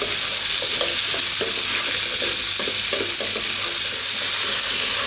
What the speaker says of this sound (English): So just these two ingredients at the moment with the oil, and want to fry this around for about 4 to 5 minutes.